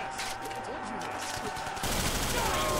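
Gunfire crackles in the World at War video game, a dense rattle of shots that swells louder near the end, with people talking over it.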